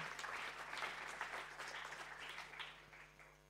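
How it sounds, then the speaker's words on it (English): An audience at an academic conference session on UK industrial strategy gives a faint, distant round of applause that fades gradually over a few seconds. "Big round of applause for Hugo."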